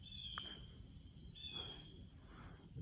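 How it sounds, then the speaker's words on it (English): Birds calling at dawn on a lakeside campground shore at South Holston Lake, Tennessee, with a few thin high chirps and whistles coming in separate bursts over a steady soft outdoor hiss. "The birds are chirping and awake and happy."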